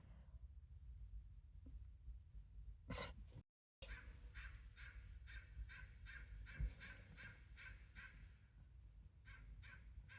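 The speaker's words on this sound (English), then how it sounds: "That damn crow better move along" A crow caws repeatedly in a series of harsh calls over steady outdoor background noise, moderately distant.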